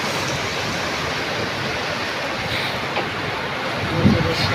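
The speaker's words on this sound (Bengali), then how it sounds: "বাতাসটা এখন দেখা যায় কমে গেছে, শুধু বৃষ্টি পড়তেছে" Steady rain falling during a storm as the wind dies down, a dense continuous hiss with a few faint splashes and knocks near the end.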